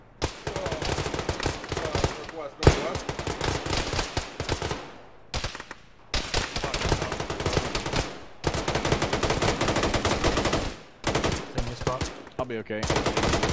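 Gunfire in the military game Arma 3, dense and loud: sustained rapid automatic bursts and single shots crackling almost nonstop with brief pauses, while players talk over the radio.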